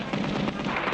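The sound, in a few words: cartoon gunfire, bullets bouncing off a hero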